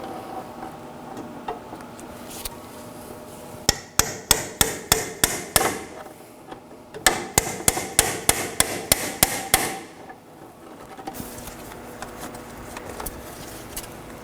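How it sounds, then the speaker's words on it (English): Two bursts of sharp, rhythmic metal hammer blows on a pry bar, about six strikes each, ringing loudly over a low background hum, loosening a clamp while replacing bellows boots on a 2013-2019 Nissan Sentra. "I'll be using a pry bar and a hammer to get it loose."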